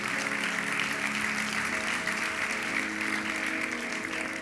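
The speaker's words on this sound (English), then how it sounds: "please, can we give Miranda and Mark and all of the team at Barber Society Live one big round of applause for this incredible event" Sustained audience applause fills a hall at the Barber Society Live event in Amsterdam, a dense even wash of clapping with faint music tones running underneath.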